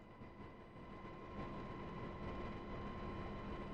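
A UH-60L Black Hawk helicopter in the DCS combat flight simulator drones in flight, a steady low rumble with a faint high whine, continuous and moderately quiet with no talk.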